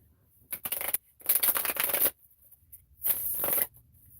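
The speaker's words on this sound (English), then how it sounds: "And then I'm going to do one shuffle, 3 knocks" A deck of playing cards is shuffled nearby in three crisp riffling bursts separated by short pauses, each a papery rush of cards, with no talking.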